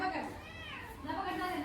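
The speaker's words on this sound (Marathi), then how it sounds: "मांजर पण आहे का त्याच्या मागे." A cat in the video game GTA 5 gives a couple of short, rising and falling meows, one after another, quiet and close, with a person speaking nearby.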